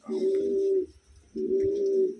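A Taiwanese Wantai pigeon coos up close, giving two drawn-out low cooing calls with a short pause between them.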